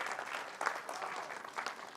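Audience clapping at an Atomy India felicitation event, a dense crackle of many hands swelling in small bursts, fairly quiet and distant, with no talk over it.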